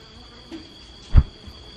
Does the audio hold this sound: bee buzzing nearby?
yes